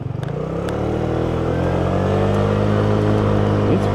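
A Piaggio Liberty scooter engine runs after a transmission overhaul with a new drive belt, giving a close, loud, steady drone that rises slightly in pitch as it revs and holds, with no talk over it.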